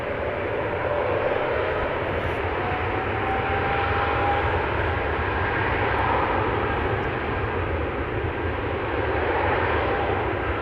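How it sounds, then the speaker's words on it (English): Air France Airbus A220-300 jet departing an airport, its engines giving a steady, loud, broadband roar that holds evenly throughout. "Air France A220-300 going to Paris"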